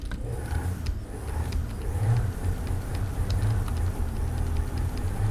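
A modified Rhapsody car engine in GTA 5 hums and revs with a low, throaty rumble, rising and falling steadily without any voices.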